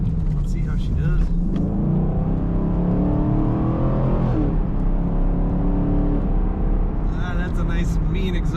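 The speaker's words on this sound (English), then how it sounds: "That's a nice mean exhaust note from this car." Deep, loud exhaust rumble from a 2019 Chevrolet Camaro 2SS Convertible with automatic transmission as it accelerates, the engine note rising steadily then easing off, heard close with a brief voice near the end.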